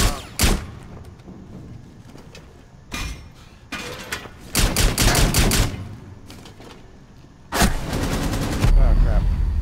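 Gunfire in the game Rainbow Six Siege: loud, sharp bursts of rapid shots arrive in separate clusters with short quiet gaps between them, close and punchy, with a voice speaking in between.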